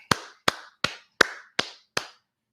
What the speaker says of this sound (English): And round of applause to Michael Roby,